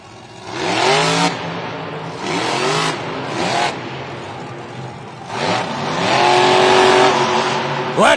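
Monster truck engine at a Monster Jam stadium event, loud and revving in surges with bursts of throttle and some tire noise, under a booming crowd and arena announcer talk.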